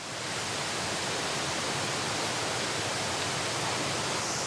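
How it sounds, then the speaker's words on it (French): A loud, steady roar of rushing water fills the whole clip, dense and unbroken, heard a few metres from the foot of the Gavarnie waterfall in the Pyrenees. "À quelques mètres du pied de la cascade, le bruit est assourdissant."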